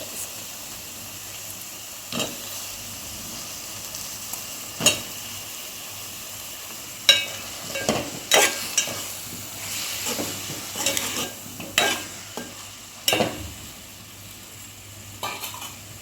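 Taro root stirred in hot oil with salt, chili powder and turmeric, giving scattered scraping clicks of a spoon against the pan over a soft, steady sizzle.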